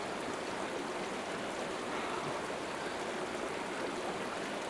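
A mountain stream fed by a glacier above, rushing steadily and close by as an unbroken wash of water with no voices.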